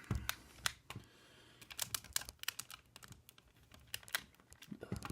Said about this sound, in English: I don't know why it makes that clicking noise